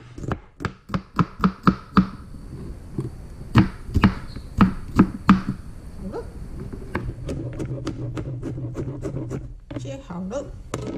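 Knife chopping tomatoes on a cutting board, a quick run of sharp evenly spaced thuds, then sparser irregular cuts, close and clear, with a voice speaking over later parts.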